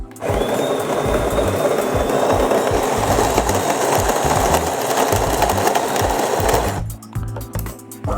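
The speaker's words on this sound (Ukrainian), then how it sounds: "Кавомашина намолола біля 10 грамів кави" A DeLonghi Magnifica S coffee machine grinds coffee beans, a loud, constant whirring grind lasting about seven seconds before cutting off into softer clicks and mechanical settling.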